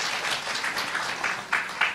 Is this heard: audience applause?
yes